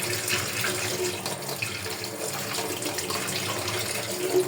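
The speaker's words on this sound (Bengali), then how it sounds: "দেখতে পাচ্ছেন কীভাবে ছাঁকনি দিয়ে ধুয়ে নিচ্ছে" Running tap water rinses potatoes in a metal strainer over a kitchen sink, a steady close splashing rush that holds even for the whole stretch.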